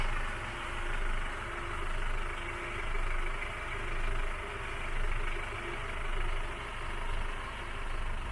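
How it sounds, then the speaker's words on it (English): A Volvo Penta KAD32 diesel boat engine runs steadily on a rainy day, a close, constant low rumble with a gentle once-per-second swell and no voices. "magically, the engine started."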